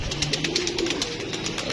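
A pigeon coos softly in a short, rhythmic run of low calls against quiet background noise.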